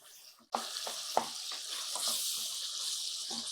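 Ripe tomatoes sautéing in a pan, a sudden loud sizzle bursting in then holding as a steady hiss, punctuated by several soft scraping stirs of a spoon.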